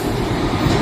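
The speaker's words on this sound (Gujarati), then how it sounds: "તો આપણી ટ્રેન આવી રહી છે" A train pulling into a station on the Botad to Rajapara line: a loud, dense rumble of wheels and carriages rolling close by, continuous for under a second.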